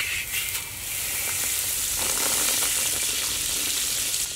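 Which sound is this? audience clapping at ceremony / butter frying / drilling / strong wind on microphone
butter frying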